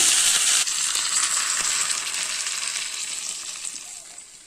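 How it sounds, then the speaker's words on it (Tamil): Mustard seeds and curry leaves hiss loudly in hot oil for an urad dal chutney tempering, a close, bright sizzle that is strongest at the start and slowly fades over the clip, with no voices. "எண்ணெய் ஊற்றிருக்கேன், கடுகு போட்டிருக்கிறேன், கருவேப்பிலை"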